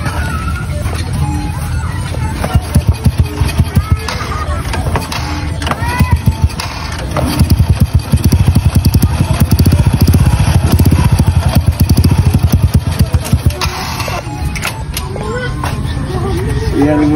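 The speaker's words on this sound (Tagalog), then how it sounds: "Yan yung motor." A motorcycle engine runs close by in a home setting, a steady low rumble with rattly revs and clatter, partly under talking voices and background noise.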